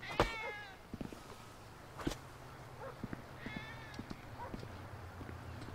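A cat meows inside the video game GTA V: a few short, fairly clear meows over a low steady game hum, with faint clicks and thumps around them.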